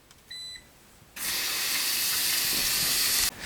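A 2019 Speed Queen TR7 top-load washer gives a couple of short beeps when started, then after a brief pause a loud, steady rush of water filling the drum, hissing continuously to the end.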